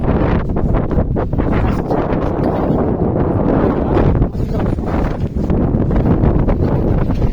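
Wind blows hard and continuously across the microphone, a loud rumbling rush with slight dips and surges throughout.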